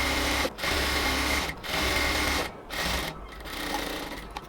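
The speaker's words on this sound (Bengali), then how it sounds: "এবার একটা সেলাই দেওয়ার পর আমরা হচ্ছে পাশ দিয়ে আরেকটা ডাবল সেলাই দিয়ে দিব।" A sewing machine runs double stitching on a cotton kameez, close and steady, in four whirring runs of about a second each separated by short pauses.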